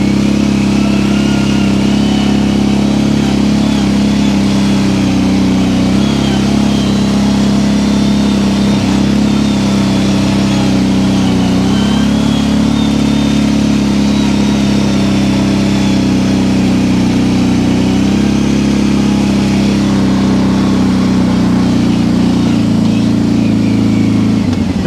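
An ATV engine runs steadily throughout a ride through the woods in upstate New York, holding a loud, continuous mid-pitched drone with slight throttle variations and no talking.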